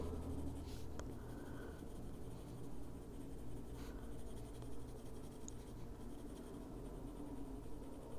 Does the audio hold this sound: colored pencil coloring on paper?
yes